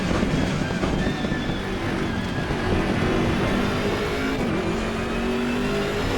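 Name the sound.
BMW M6 GT3 race car engine, Assetto Corsa Competizione video game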